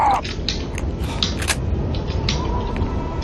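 A door creaks shut in the Call of Cthulhu video game: a short series of uneven wooden creaks and squeaks, close and fairly loud, with a faint steady tone underneath and no one talking.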